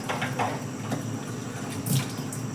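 Tap water runs steadily into a bottle in a home kitchen, a soft continuous trickle heard close by with no talking.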